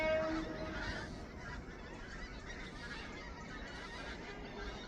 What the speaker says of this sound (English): They're called a skein when they're flying in formation like this.